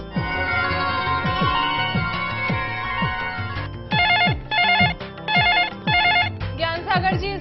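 An old-style telephone bell rings for an incoming call on a live astrology call-in show, first under falling studio music tones, then in loud, evenly spaced double rings standing alone.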